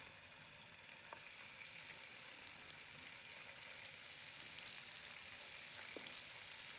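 Six or seven bata fish fry together in hot oil in a frying pan, giving a soft, steady sizzle that continues throughout with no talking.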